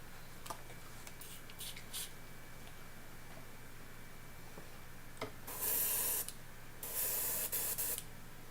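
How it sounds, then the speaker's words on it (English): Short bursts of an airbrush spraying during cleaning between paint jobs, with a faint hiss early on, then two loud sustained blasts of air and paint near the end. No one speaks. "Stopping to clean the airbrush."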